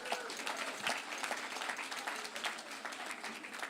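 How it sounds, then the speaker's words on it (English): Applause from guests at a fundraising event for Englewood Hospital, a steady patter of many hands clapping at moderate volume throughout. "let's give a round of applause to everybody in your support for Englewood Hospital"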